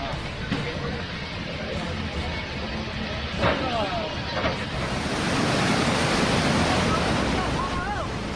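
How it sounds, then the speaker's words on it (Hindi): Monsoon floodwater surges with enough force to carry stones along after days of continuous rain, a loud, unbroken roaring rush that swells slightly toward the end. "पानी की धार इतनी तेज है कि पत्थर तक बह जा रहा है।"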